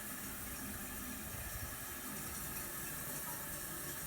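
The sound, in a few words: fidget spinner being dipped in water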